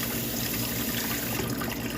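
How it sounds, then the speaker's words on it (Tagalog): Hot water running from a kitchen tap, a steady broadband rush that continues evenly for the whole two seconds at moderate level with no voices. "Ang init ang tubig."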